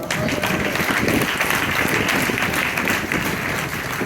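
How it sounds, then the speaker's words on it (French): A church congregation applauding during a sermon, a steady wash of many hands clapping at once, even and sustained with no talking over it. "Si on est d'accord, on applaudit le Seigneur."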